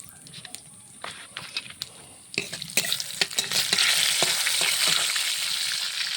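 Whole bay leaves and cumin dropped into hot mustard oil, starting with a few quiet clicks before a sudden burst of loud, close sizzling that swells and holds steady, with scattered utensil taps.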